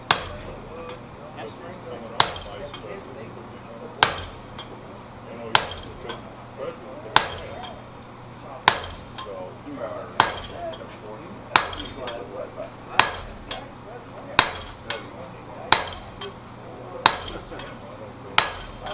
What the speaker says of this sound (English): Don't you all just love power hammers?